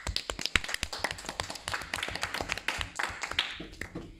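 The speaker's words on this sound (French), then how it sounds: "On les applaudit très fort." A small audience claps for two contestants on a school quiz show, an irregular patter of individual hand claps lasting a few seconds, fairly close and fairly quiet, with no talking.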